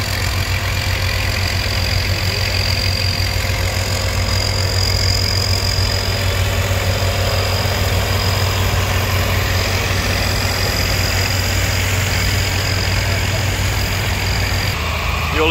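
Old tractors at a farm show, John Deere, Farmall, Ford and Minneapolis Moline among them, idle together in a steady, close, low engine rumble that holds without a break throughout.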